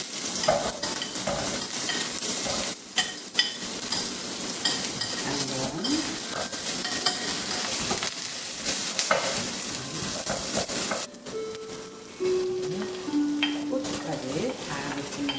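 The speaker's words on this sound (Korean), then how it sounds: "양파를 볶으시고요." Onions sizzle and crackle steadily in hot oil in a pan, a utensil scraping and stirring through them, with a brief murmur of a voice at times.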